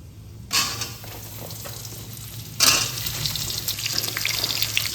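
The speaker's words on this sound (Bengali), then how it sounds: "এবার আমি এখানে এই কেটে রাখা আমগুলো এর মধ্যে দিয়ে দেবো" Cut mango pieces dropped into hot mustard oil with tempering spices, a sharp hiss at the start and a second surge of loud sizzling that then holds as a steady, close frying crackle.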